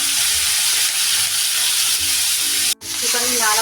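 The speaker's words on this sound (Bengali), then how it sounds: "তেলে ছেড়ে দিলাম চিকেনটা" Chicken pieces and prawns fry in hot oil with a loud, continuous sizzle and hiss, briefly cut off near the end before the crackling resumes.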